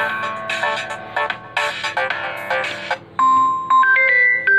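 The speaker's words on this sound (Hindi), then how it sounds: "कोई भी रिंगटोन बजा देते हैं, जैसे ये बज रही है, साउंड कर देते हैं हम फुल।" A Samsung Galaxy F42 5G phone plays its ringtone at full volume: a loud, bright melodic run of repeating electronic notes with no talking.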